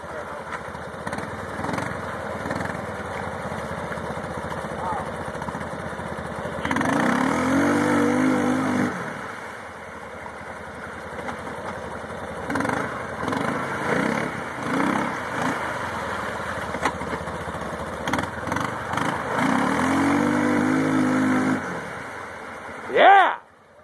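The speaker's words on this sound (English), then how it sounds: "The old Kawasaki Prairie." Kawasaki Prairie ATV engine running in Saint Helen, Michigan, a steady motor drone throughout with a few revving surges, close by, with people talking and calling out over it.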